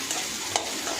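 Cut okra sautéing in a little oil in a pan, a steady close hiss of frying with a couple of brief stirring scrapes.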